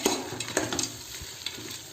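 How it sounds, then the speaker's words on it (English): Close, soft sizzle of whole spices frying for chicken biryani, broken by scraping and clinking as a spoon stirs through the pan, with no voices. "So let's fry all this together very well."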